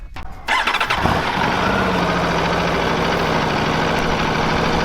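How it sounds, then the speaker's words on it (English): An Aprilia V4 1100 Factory sport motorcycle from 2019 cranks briefly and fires up, its V4 engine catching after a second and settling into a loud, steady, close idle. "Ah, it has to be started. The bike."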